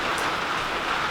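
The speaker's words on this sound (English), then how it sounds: "So I'm out here in the greenhouse and it's raining" Rain falls steadily outside a greenhouse, a dense, even hiss with no breaks.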